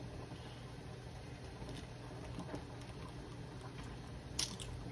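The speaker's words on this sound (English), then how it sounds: "Crack your egg on a flat surface." An egg cracked on a flat surface while making fried rice gives a single sharp, close crack near the end, over a steady low kitchen hum.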